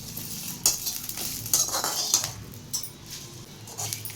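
Dried red chillies and curry leaves frying in hot oil for a spicy curry leaf powder, a steady hiss with sharp scrapes and clinks of a spoon stirring the pan, close and alone.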